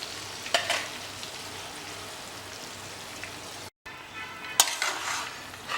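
Fried chicken pieces land in hot sizzling masala for biryani, a steady crackling fry with a couple of stirring scrapes and a sharp burst near the end, close and moderately loud with no talking.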